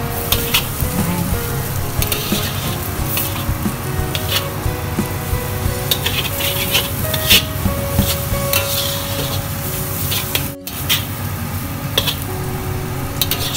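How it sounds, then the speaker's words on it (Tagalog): Noodles stir-fried with vegetables in a hot pan, a steady loud sizzle broken by scraping and tossing of the spatula throughout, close up with no talk. "stir fry nyo na siya with the vegetables"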